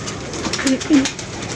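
Pigeon cooing in a short pair of soft, low coos near the middle, set against steady background noise and faint voices, from a loft's pigeon kept with others outside.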